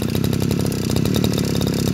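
An idling G2K engine with a rattling clutch drum, giving a steady, close, rapid mechanical chatter that stays even throughout with no speech.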